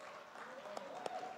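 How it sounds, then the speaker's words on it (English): An alumni-meet audience applauds an award winner, steady soft clapping with a few sharper claps near the end while a voice talks over it. "can we have a loud applause for Yayati Kini"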